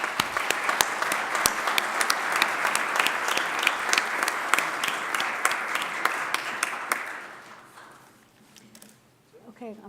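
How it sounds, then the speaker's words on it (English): An audience at a city ceremony for integrity officers, held at a mayor's press conference, applauds in a full, sustained burst of close, sharp claps, then tapers off, with faint voices as it ends. "Let's give them a round of applause."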